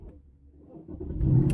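A car engine cranks and catches, a low rumble rising to a louder steady idle within a second or two, close and alone.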